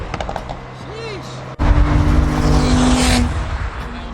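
A BMW M4 at a car meet revs and accelerates hard nearby, a sudden loud engine surge with tire noise rising over other car sounds, with people talking in the background.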